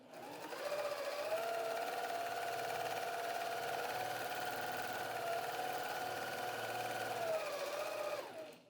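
A sewing machine doing free-motion quilting runs in one steady, continuous hum for about eight seconds, its speed held by a foot pedal; the motor tone is close and even from start to stop with no voices.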